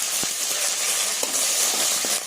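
Loud, dense sizzling of curry leaves frying with onions and chicken in hot oil, with a few sharp crackles and pops over the constant hiss, close up and without speech.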